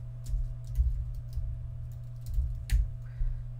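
Quick bursts of typing on a computer keyboard, a few scattered clicky keystrokes heard close and fairly quiet over a steady low hum, with no talking.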